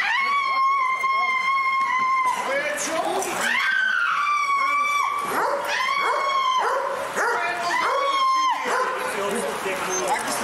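A dog gives sharp, high yelping barks and whimpers in bursts over several seconds, loud and close, mixed with agitated human voices during a police encounter.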